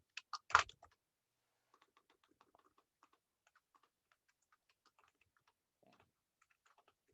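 A computer keyboard used for coding produces a few sharp, close key clacks at the start, then sparse, faint, irregular taps spread over several seconds.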